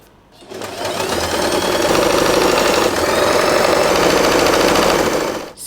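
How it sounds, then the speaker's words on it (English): Sewing machine stitching through folded velvet fabric, a loud, steady rapid whir that starts after a brief quiet moment and runs continuously for several seconds before stopping. "fold the fabric in half, and we are going to sew this part"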